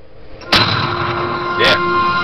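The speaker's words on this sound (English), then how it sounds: "Then I start trying to shoot at it." Two sharp gunshot bursts from the Enter the Matrix video game, a loud crack at the start and a second about a second later, over steady game background hum.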